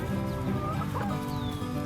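Chickens clucking and fussing close by, a steady murmur of soft clucks and chirps with no voices.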